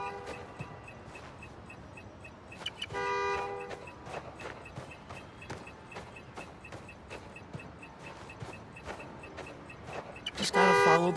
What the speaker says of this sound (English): Follow the honk.